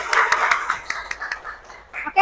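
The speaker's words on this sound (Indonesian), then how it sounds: "Tepuk tangan untuk kita semua." A classroom of students applauds together in quick, scattered claps, moderately loud and close, with voices chattering beneath the clapping.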